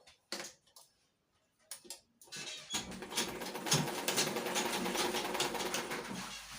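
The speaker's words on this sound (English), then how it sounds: "Place the lining on the right side of the fabric. And sew it straight down." A sewing machine stitches lining onto the right side of blouse fabric in a straight seam. It starts in short bursts, then runs in a continuous rapid ticking whir for several seconds, close and clear.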